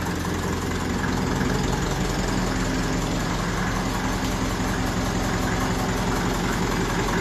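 1954 Ferguson TEF 20 diesel tractor idling close by, a steady loud chugging throb with a fast metallic ticking from a loose timing chain running throughout.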